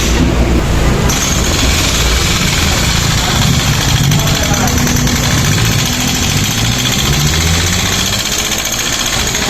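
A small Yamaha Mio M3 motor scooter engine with 53,000 on the odometer runs noisily and steadily close by, with a rough, rattling idle that holds for several seconds, slowly shifting in pitch toward the end.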